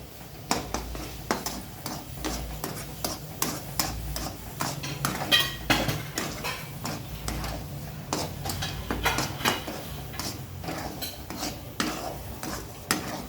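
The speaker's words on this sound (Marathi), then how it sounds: "विलायची पावडर, काजू बदाम पावडर टाकून घेऊ। छान परतून घेऊ।" Sheera being stirred and sautéed in a pan with cardamom and cashew-almond powder, a spoon scraping in a steady rhythm of close, repeated strokes with light clinks throughout.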